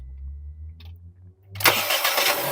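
A 2021 MG ZS SUV with a wiring fault sits idling low before its starter cranks and the engine catches, bursting into a loud, close, broadband start that settles into a running rumble.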